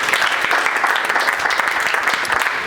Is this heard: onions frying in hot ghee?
no